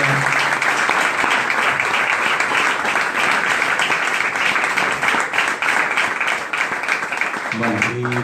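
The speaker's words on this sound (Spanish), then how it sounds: "yo creo que se merece un aplauso" Audience at the FICBUEU 2019 film festival applauding a guest after a screening Q&A, a dense, steady wash of many hands clapping throughout, with faint voices underneath and a brief tonal sound near the end.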